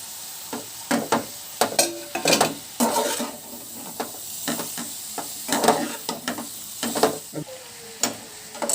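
Egg noodles for Hakka-style noodles tossed and stir-fried in a pan, with crisp sizzling broken by repeated clattering scrapes and knocks of utensils against the pan in an uneven rhythm.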